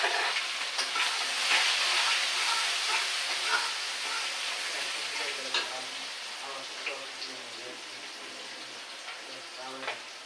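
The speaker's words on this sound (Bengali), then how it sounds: "পেঁয়াজ কুচিগুলো আগে দিয়ে দিচ্ছি" Chopped onions hit hot oil in a pan and sizzle loudly at first, then settle into a steady frying hiss with light stirring scrapes, while someone speaks over the cooking.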